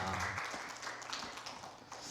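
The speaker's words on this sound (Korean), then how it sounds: "우리 두 분에게 한번 우리 박수로 격려의 박수 한번 드리십시다" A Korean church congregation gives an encouraging round of applause during a Sunday service, a brief, soft burst of clapping following a voice's closing word.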